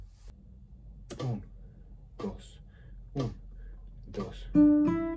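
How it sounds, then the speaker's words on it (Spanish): A metronome set to 60 beats per minute ticks in sharp, evenly spaced clicks about once per second, while a voice counts along between the beats. "Esto con el metrónomo a 60 bits por minuto suena así."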